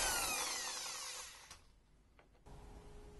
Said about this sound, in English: You're using a power tool